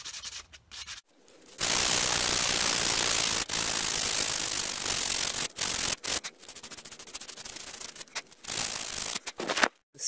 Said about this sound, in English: I worked out a lot of the notches with the 150 grit sandpaper